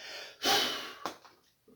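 A man blows out a strong, long breath close to the microphone during a sermon, one loud whoosh followed by a shorter second puff and a faint trailing breath, with no words spoken.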